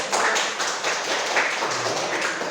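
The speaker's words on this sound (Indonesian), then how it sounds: "Tepuk tangan dulu" A university classroom audience applauds during a chemistry lecture on hydrocarbon derivatives, with dense, steady clapping filling the whole stretch and no voices over it.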